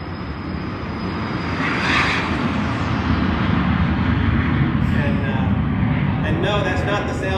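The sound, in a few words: business jet taking off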